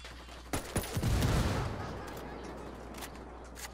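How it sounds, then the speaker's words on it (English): Several sharp rifle shots crack out in quick succession, then merge into a brief rumbling burst of gunfire during a firefight in the video game Ghost Recon Wildlands, fairly faint and trailing off into ambience. "I'm opening fire on these shitheads."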